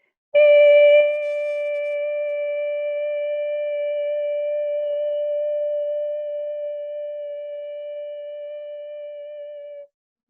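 A single high-pitched sustained vocal tone sung for sound healing, starting with a brief louder onset then holding one steady pure pitch for about nine seconds and fading slightly before stopping abruptly, with no talking.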